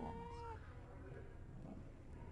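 Mother cat with her kittens, giving soft, low meows and mewing close by against a quiet indoor background.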